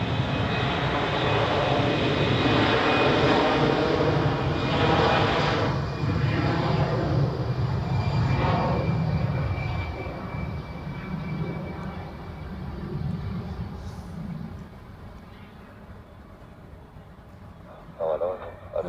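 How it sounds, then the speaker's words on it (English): A Lufthansa airliner bound for Frankfurt takes off from Zurich Airport, its engines roaring loud and close before gradually fading into the distance, while people talk over the sound. "Okay, take off for Lufthansa to Frankfurt."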